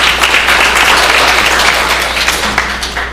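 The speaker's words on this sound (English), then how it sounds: "Big applause, please." Loud, sustained applause from a law conference audience welcoming a speaker, a thick wall of clapping that holds steady and eases slightly near the end, over a constant low hum.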